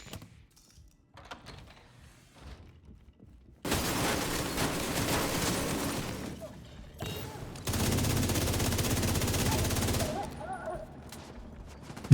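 An ammo stockpile detonated in a video game sets off loud crackling bursts of gunfire-like explosions in two long stretches, after a quieter stretch of game sounds and soft talk.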